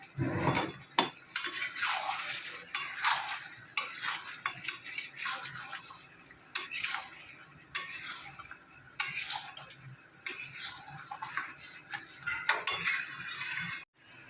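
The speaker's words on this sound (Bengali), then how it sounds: "তারপর এটা নেড়ে নেবেন।" Chicken curry with garam masala is stirred in a pot, with rhythmic scraping and clanking of a spoon against the metal in regular strokes and a light sizzle beneath, close and clear.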